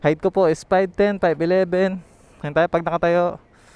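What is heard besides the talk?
No everyday noises stand out.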